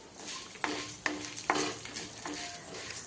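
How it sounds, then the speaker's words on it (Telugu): Urad dal and coriander seeds frying in a pan for a curry leaf spice powder, a steady close sizzle broken by several scraping stirs. "పప్పులు గోల్డ్ కలర్కి వచ్చినంత వరకు ఫ్రై చేయండి"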